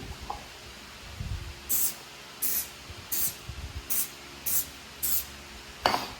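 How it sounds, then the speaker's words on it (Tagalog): Aerosol can of sticker adhesive remover sprayed in a string of short, loud hissing bursts at a steady rhythm, about seven sprays close to the listener, with a few soft handling knocks before them. "So we'll just spray this one."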